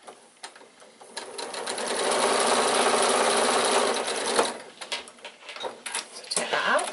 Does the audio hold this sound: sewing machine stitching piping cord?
yes